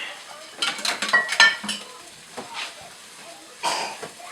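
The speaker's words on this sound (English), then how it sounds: "I'm just going to stir that up a little bit more." Rice and eggs stirred in a pressure cooker, several close scraping and clattering strokes of a utensil against the pot with a faint sizzle between them.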